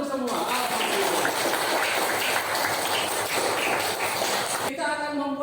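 A classroom of students bursts into dense, steady applause for several seconds, close and lively, before it cuts off and a voice begins speaking.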